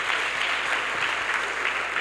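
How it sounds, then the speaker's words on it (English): Audience applause at the inauguration of Edo College of Agriculture: a continuous, even wash of many hands clapping, moderately loud and unbroken for the full stretch. "A round of applause for him."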